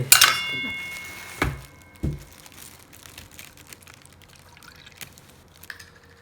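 Milk poured from a cup into a bowl for eggless French toast, a short liquid pour with light crinkling and a few soft knocks, quiet and close, with no speech.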